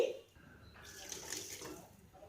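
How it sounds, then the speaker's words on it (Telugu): Water poured from a cup into a cooking pot, a soft, brief splashing pour heard close and fairly quiet. "2 కప్పులు వాటర్ వేసుకోవాలి."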